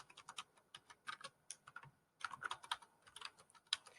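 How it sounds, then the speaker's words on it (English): Fingers type on a computer keyboard while building a PowerPoint slide, a quick, irregular run of light key clicks with a brief pause midway, close and quiet. "I'm going to do the typing that I see here."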